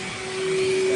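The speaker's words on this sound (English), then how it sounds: "A great vacuum makes cleaning really easy." A vacuum cleaner whines steadily close by, its motor tone holding constant and swelling slightly louder over the brief stretch.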